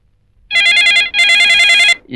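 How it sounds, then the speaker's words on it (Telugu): A telephone rings loudly and close by, two electronic trilling bursts in quick succession before cutting off. "మీనా, నీ ఫోన్ వచ్చినందుకు చాలా సంతోషంగా ఉందమ్మా."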